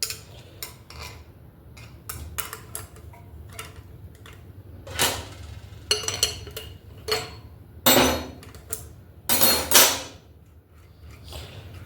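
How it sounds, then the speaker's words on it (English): A wrench works the axle jam nut on a Hiland Redeem 20-inch BMX, giving a series of irregular metallic clanks and ratcheting clicks, several louder knocks, close and without talk. "run this jam nut off, axle nut, whatever you want to call it"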